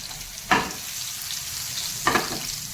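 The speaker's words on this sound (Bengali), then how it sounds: "এবার আমি ফোড়ন দেবো জিরে মরিচ আর একটা শুকনো লঙ্কা আর এই রসুনটা একটুখানি থেঁতো করে দিয়েছি" Cumin seeds, chilli, a dried red chilli and crushed garlic hitting hot oil for a tempering, two sharp bursts of sizzling a second and a half apart over a steady background fizz, close and loud, no voices.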